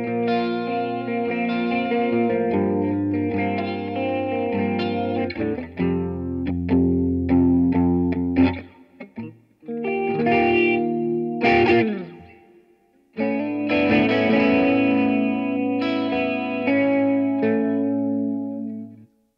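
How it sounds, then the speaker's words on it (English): An electric guitar through the chorus effect of a Line 6 Catalyst CX 100 amp, modeled on an Orion chorus pedal, rings out lush and shimmering. Strummed chords and melodic phrases swirl with a slight wobble, with a brief pause midway and no talk. "I really love that chorus sound."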